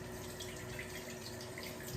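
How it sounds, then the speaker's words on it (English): Running water from a kitchen tap as hands are washed, a steady continuous splash with faint dripping, close and fairly loud throughout with no talking. "wash my hands"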